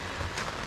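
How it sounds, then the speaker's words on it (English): Steady rain patters on a camp in Snowy River National Park in a brief, dense hiss with no voices. "Been raining nearly all night."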